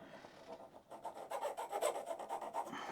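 A cross grain nicker cutter being sharpened with a file: a quick, close series of short rasping strokes, quiet but distinct, speeding into a regular rhythm, with no voices.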